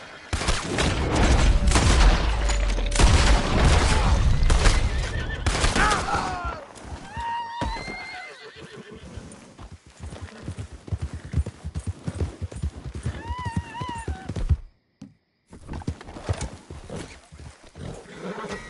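A horse in a video game gallops with steady hoofbeats under loud gunfire-like bursts early on, then whinnies in several rising neighs as the clopping continues at a quieter level.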